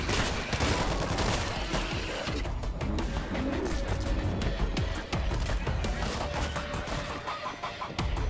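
Sustained machine gun fire during a World War Z battle, loud and relentless with sharp repeated shots over the clatter of fighting, and voices talking underneath.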